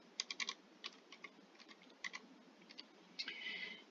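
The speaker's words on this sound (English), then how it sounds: "you can scan or hand type your new barcode number" A barcode number being hand-typed on a computer keyboard: quiet, close key clicks in quick clusters with brief gaps, ending in a short rattling run of keystrokes.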